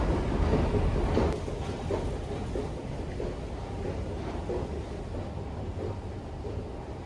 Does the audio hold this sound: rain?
yes